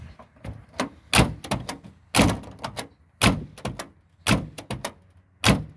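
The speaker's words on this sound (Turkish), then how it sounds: "Kesinlikle contadan dolayı aşırı şekilde kapıyı zorluyor" Doors on a Renault 12 TSV (Toros) being shut repeatedly after adjustment, tight seals making each close a heavy thunk, several sharp slams spaced about a second apart with lighter knocks between.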